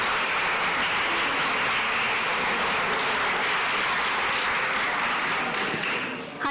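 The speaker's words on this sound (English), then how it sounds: "So please, a big applause to" An audience at a Bitcoin talk gives a big round of applause for the next speaker, a loud, dense, steady wash of clapping that fades slightly at the very end.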